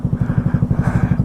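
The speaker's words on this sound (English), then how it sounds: "it's a z125 Kawasaki" A Kawasaki Z125 motorcycle engine runs close by with a steady, throbbing idle, its low exhaust pulses beating in an even rhythm, loud and alone.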